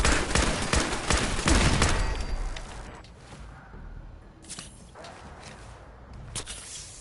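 Rapid gunfire in modded Fallout 4, a dense burst of loud shots in the first two seconds, then scattered fainter reports and movement sounds trailing off, no speech.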